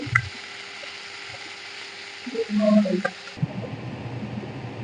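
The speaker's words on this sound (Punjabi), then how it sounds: "ਤੁਸੀਂ ਦੇਖ ਸਕਦੇ ਹੋਗੇ ਆਪਣੀਆਂ ਮਿਰਚਾਂ ਚੰਗੀ ਤਰ੍ਹਾਂ ਫਰਾਈ ਹੋ ਚੁੱਕੀਆਂ ਨੇ" Green chillies frying in a pan over a high gas flame for a dhaba-style chilli fry: a brief burst of sizzling and bubbling, up close, with a steady hum underneath before it stops abruptly.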